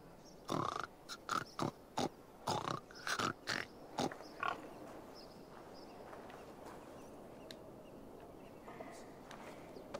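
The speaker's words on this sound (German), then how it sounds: "Hallo, Schwein" A series of short, loud pig grunts and snorts in a quick burst in Assassin's Creed Valhalla, followed by a quieter stretch with faint background sounds.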